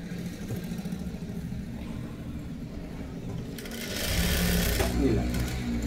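Sewing machine stitching a kurti, a steady mechanical whirr under someone speaking, growing louder and busier toward the end as the stitching speeds up.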